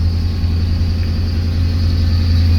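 Cold Chevrolet Camaro engine idling with a slight lope, a steady low rumble close by, no voices.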